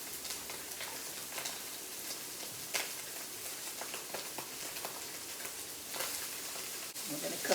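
White bok choy stems with onion sizzle in a pan for chili crisp noodles, a steady crackling hiss with occasional sharper pops and stirring clatter, heard fairly close.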